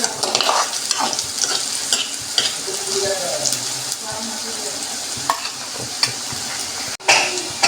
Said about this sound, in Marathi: कांदा चांगला परतून घ्यायचा, गोल्डन ब्राऊन होईल तोपर्यंत.